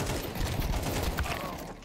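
Counter-Strike 2 gameplay gunfire comes as a dense, quick burst of rattling shots over a couple of seconds, moderately quiet under the game's background noise.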